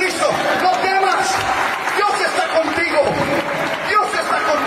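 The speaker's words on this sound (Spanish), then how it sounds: "Denle un aplauso al Señor Jesucristo" A church congregation claps together in steady, dense applause for nearly five seconds, with voices and chatter mixed underneath.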